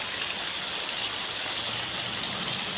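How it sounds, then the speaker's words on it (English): Rainwater spills over the edge of a swimming pool fed only by rain. It makes a steady, even rush of splashing water from start to finish, with no one speaking. "So the pool now is overflowing."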